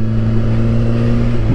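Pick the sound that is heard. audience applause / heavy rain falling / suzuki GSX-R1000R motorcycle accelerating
suzuki GSX-R1000R motorcycle accelerating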